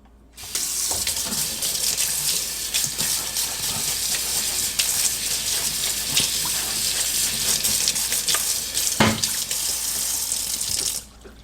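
A mayonnaise spoon is rinsed under a running kitchen tap, with a loud, steady stream of water splashing continuously for about ten seconds before stopping abruptly.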